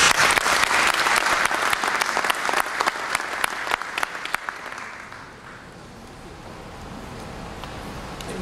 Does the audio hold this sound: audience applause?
yes